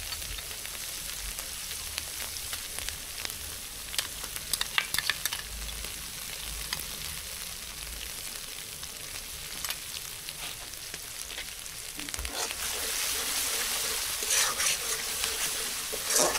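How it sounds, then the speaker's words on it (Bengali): Cashew and poppy seed paste hits hot frying masala for a dai mrigal fish curry, giving a steady close sizzle with stirring scrapes throughout and a louder, busier frying burst near the end; no talking. "এবার দিয়ে দেব কাজু বাদাম আর পোস্ত বাটা"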